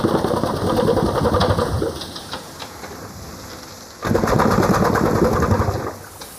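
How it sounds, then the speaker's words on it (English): Old working steam engine at Quarry Bank Mill in England, a steady mechanical chugging and rattling with a faint high whine, dipping quieter midway before surging back loud. "This remarkable contraption is an old steam engine."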